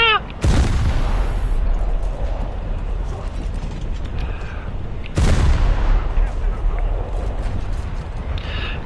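A tank in War Thunder fires high velocity shells in two loud, sharp blasts about five seconds apart. Each blast is followed by rumbling, mechanical reload clatter, and engine noise runs underneath throughout.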